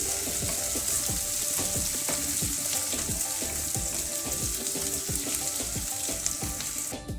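Sliced onions fry in a pan for a capsicum and potato dish, a constant sizzle broken by steady, rhythmic scraping and clicking of a stirring spoon.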